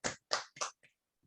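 At a meeting hall, a few sharp, separate hand claps ring out close by, three strong hits followed by a softer fourth, then quiet.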